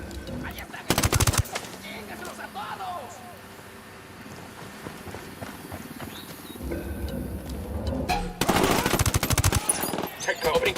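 Video game firefight with loud bursts of automatic gunfire early on and again toward the end, separated by a quieter stretch with faint bird chirps and distant shots, while voices talk underneath.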